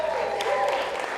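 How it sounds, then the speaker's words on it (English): Wedding guests on a dock clapping together, a brief burst of dense applause with a voice heard over it. "Everybody clap."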